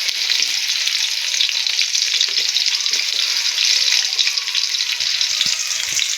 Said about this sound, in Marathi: एक साईडला आपला कांदा पण असं फ्राय होतोय